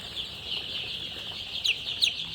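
Nine-day-old Sonali chicks on a poultry farm give a steady mass of high peeping, with a couple of sharper chirps standing out near the end, close by and with no talk.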